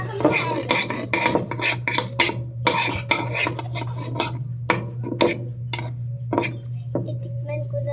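Metal utensils scrape, tap and clink against a pot while ginamos, a fermented fish paste, is cooked, in rhythmic bursts over a steady stove hum, with a voice speaking briefly.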